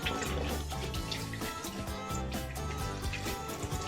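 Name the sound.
warm tap water running while rinsing hands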